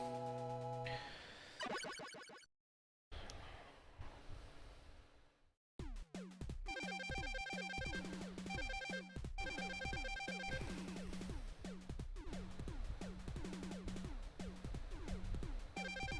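Phone notification chimes heard alone: bright repeated electronic tones in quick patterns, with short gaps of silence between bursts.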